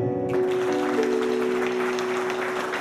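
An audience applauds in tribute to a singer at an event in a Teramo prison: a steady wash of clapping under a sustained musical tone.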